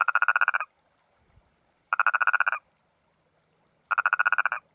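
A toad in Morocco gives three evenly spaced bursts of rapid, trilling croaks, each lasting under a second with quiet pauses between, loud and close.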